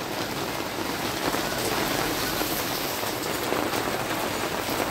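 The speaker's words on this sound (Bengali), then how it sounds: "হট করে কোথা থেকে মেঘ হয়ে দেখো বৃষ্টি নেমে গেছে।" A sudden outdoor rain shower falls steadily, a dense, even hiss of drops on surfaces that stays constant and fairly loud throughout.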